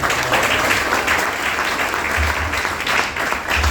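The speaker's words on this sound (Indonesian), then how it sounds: "Good answer, tepuk tangan." Seminar audience applauding, a loud, dense and continuous wash of clapping from a large crowd, steady throughout with no speech over it.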